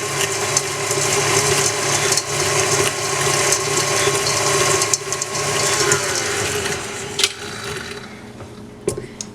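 An electric hand mixer churns brown sugar in a bowl for chocolate chip cookie dough, a steady close whirring motor with a rattling, ratcheting texture that runs for several seconds before cutting off.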